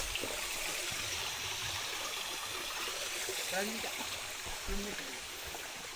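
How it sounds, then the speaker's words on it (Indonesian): A mountain river on the Rinjani trek rushes steadily with a constant broadband wash of flowing water, close and continuous, with faint brief voices underneath. "Ini kita ngeliatin sungai."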